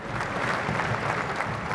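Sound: gentle applause from crowd

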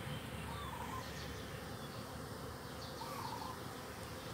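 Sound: bees buzzing around flowering coffee plants

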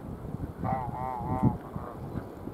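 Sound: ducks calling

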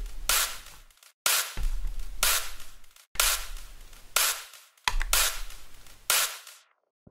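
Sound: snare drum with transients limited in mixing

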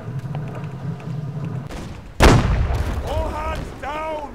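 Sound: gunfire from ships in video game Holdfast: Nations At War

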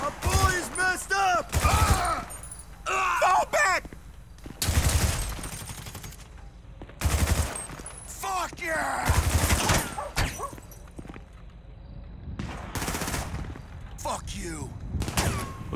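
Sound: gunfire in GTA 5 Online video game mission

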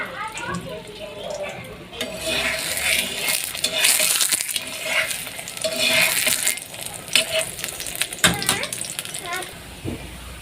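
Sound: aloo paratha frying in a little oil

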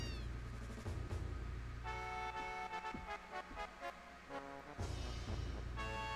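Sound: kitten meowing in Final Fantasy VII video game

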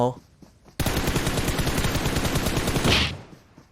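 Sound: gunfire from video game PUBG Mobile

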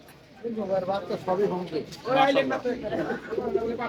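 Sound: pigeon cooing

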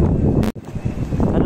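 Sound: wind

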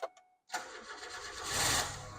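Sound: KIA 4WD petrol/CNG engine starting

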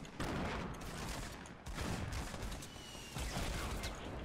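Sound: grenade explosions in a shooter video game

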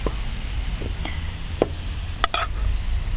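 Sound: meat and spring onions frying in a pan

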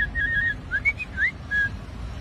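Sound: man imitating animal sounds by whistling

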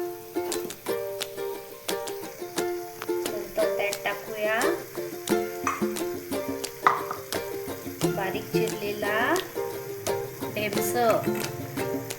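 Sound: sautéing soaked moong dal in a pan

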